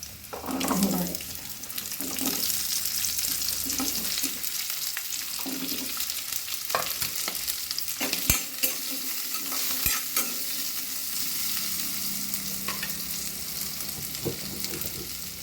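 Onion sautéing in a pan for a Tamil onion chutney, with sustained sizzling under repeated scraping stirs of a utensil against the pan, with occasional sharper knocks and no voices.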